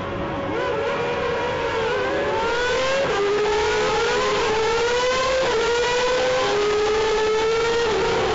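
Formula race cars of the Superleague Formula series scream past, engine pitch climbing repeatedly through upshifts in loud, overlapping whining sweeps that stay strong throughout.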